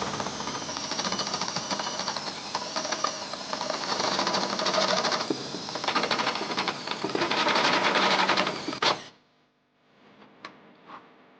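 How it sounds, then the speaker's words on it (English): Step drill bit slowly enlarging a hole in the steel frame of a Nissan Sentra during a trailer hitch installation, a loud continuous grinding whir that stops abruptly, followed by faint clicks and quiet handling. "Using the step-it, we're just going to go nice and slow to enlarge that hole."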